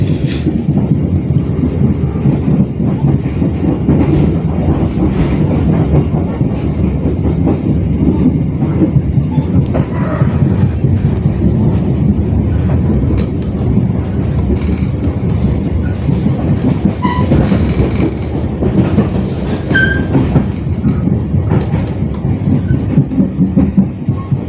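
The KA Motis Utara train runs toward Tanah Abang station with a loud, constant rumble and rhythmic clickety-clack of wheels on rails, heard from on board with no break.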